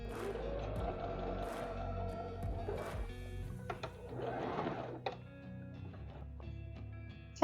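A domestic sewing machine top stitching a pressed seam on leather for a trench coat, running in steady mechanical bursts with a rhythmic whirring, close and moderately loud, with pauses and light handling clicks between runs.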